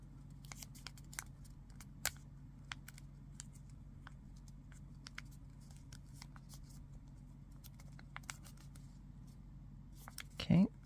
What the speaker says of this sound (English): along that center line, fold it back on itself.